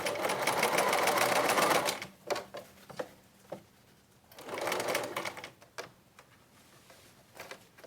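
Sewing machine top stitching a fabric face mask, catching a pressed seam, in two loud sustained bursts of rapid stitching separated by quieter pauses with light clicks and handling.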